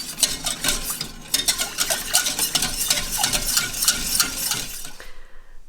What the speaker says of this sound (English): we're going to whisk that, making sure that there is no lumps of corn flour left